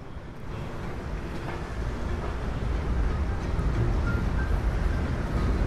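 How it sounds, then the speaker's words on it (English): A train rumbles by on the tracks in Middle Village, New York City, a broad rolling roar that grows louder and steadier over several seconds, at moderate distance. "Oh, and there's the railroad passing behind me."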